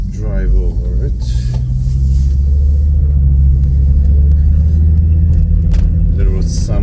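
A car driving along a road at night gives a loud, continuous low engine and tyre rumble from inside the vehicle, with a brief voice near the start.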